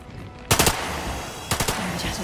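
Two quick bursts of gunfire from the Lamplighter's League video game, each a short, loud rattle of three or four shots, with a brief gap between them.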